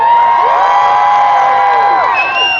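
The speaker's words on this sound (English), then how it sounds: "We have an amazing crowd." A big, loud crowd cheers and whoops continuously at Def Leppard's Hollywood Walk of Fame star ceremony, a steady roar of many voices with high shouts rising above it.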